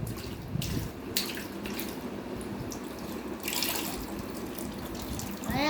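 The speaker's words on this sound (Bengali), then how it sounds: "জল খাটের নিচ দিয়ে ভর্তি হয়ে গেছে কত জল আসছে দেখো" Floodwater runs into a home, flowing under a bed and beneath a wardrobe, a steady rushing wash that stays close and loud throughout with brief splashy surges.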